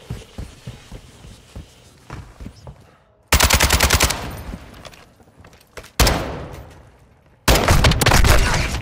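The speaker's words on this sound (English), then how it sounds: "Okay, I got him with that gun." Loud gunfire in Modern Warfare II: a rapid automatic burst followed by several heavy, sustained volleys that cut in abruptly, with quieter scattered shots and clatter between them.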